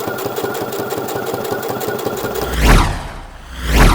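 A domestic sewing machine stitches the hem of a pair of drawstring shorts with a steady, fast rhythmic clatter that runs close and loud for a few seconds, then gives way to a couple of soft handling thumps.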